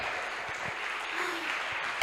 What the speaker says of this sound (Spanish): Den un aplauso bien fuerte al Señor.